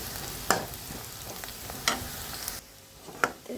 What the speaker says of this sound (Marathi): तिथं आपला कांदा मिरची भाजत आला